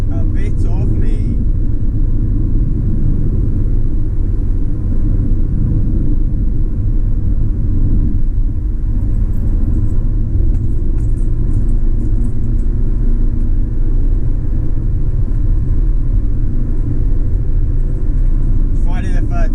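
Toyota Celica VVTi on a test drive, engine and road rumble heard from inside the cabin as a loud continuous drone throughout, with faint voice traces near the start and end.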